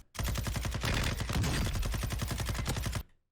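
Gunfire in the video game Warzone 2.0: a loud, sustained burst of rapid automatic shots at a steady fast rhythm for about three seconds, close and dense, cutting off abruptly.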